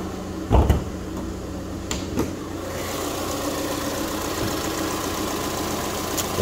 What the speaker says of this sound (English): A nice strong running EcoBoost engine.